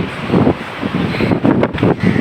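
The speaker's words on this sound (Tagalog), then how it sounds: "Ang lakas ng hangin" Strong wind buffets the microphone in loud gusty bursts outdoors in Singapore, rumbling and roaring unevenly at close range.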